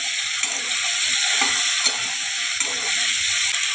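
Five or six green chillies hit a hot pan during cooking of a vegetable prawn dish, making a loud, dense, unbroken hiss of frying that stays steady and close throughout.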